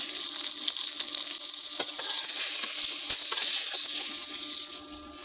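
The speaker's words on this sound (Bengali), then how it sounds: "মাছ লাল লাল করে ভাজা হয়ে গেছে মাছগুলো আমি তুলে নেবো" Silver carp pieces fry in oil, a strong, continuous sizzle near at hand, broken by several clicks of stirring or turning before it eases off slightly at the end.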